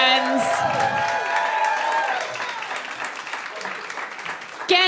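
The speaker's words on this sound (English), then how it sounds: "We have an extra round of applause for that." Audience applause at a live mainstage show in Seattle, with scattered clapping and crowd noise mixed under tonal music and a voice, fading toward the end.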